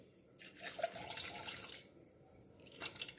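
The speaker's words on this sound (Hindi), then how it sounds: "इसमें मैं थोड़ा सा पानी डालूंगी लगभग एक कटोरी" About one bowl of water is poured into a pot of cut sweet potato pieces in a home kitchen. The splashing pour is close and fairly quiet, comes in two bursts, and stops briefly between them.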